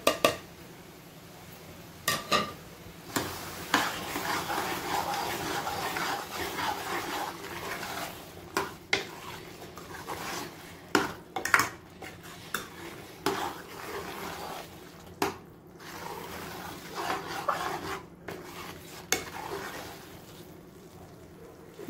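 Dry fruits—cashews, almonds, raisins and coconut powder—dropped into carrot halwa and stirred in a pan, with repeated clinks and scrapes of a spoon against the metal pan and a few sharper knocks over a steady low kitchen hum.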